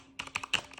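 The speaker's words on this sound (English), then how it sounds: "Here's the keyboard. So it's mechanical keyboard" Keys on a Corsair K95 RGB Platinum mechanical gaming keyboard are pressed in a quick burst of about five sharp clicks, close up and quiet with no voices.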